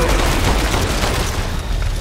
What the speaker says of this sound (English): I just instantly started shooting.